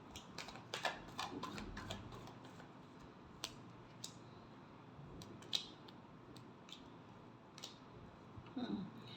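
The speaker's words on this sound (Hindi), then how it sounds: "Last shuffle." Tarot cards being shuffled, soft scattered riffling clicks and flicks, faint and close, with sharper card snaps near the end.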